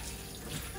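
Running water rinses freshly fried pork and bamboo shoots in a kitchen sink, a soft steady tap-water wash with a faint trickle, close and alone.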